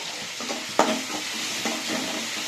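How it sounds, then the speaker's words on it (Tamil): Onions sauté in a pan for a mutton intestine gravy, a steady close sizzle broken by a sharp stirring knock and a few softer scrapes. "வெங்காயம் வதங்கிச்சு."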